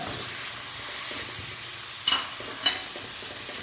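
Chopped tomato added to chicken masala in a pan, giving a steady, close sizzle and hiss with a couple of brief, sharper bursts of spatter and stirring partway through.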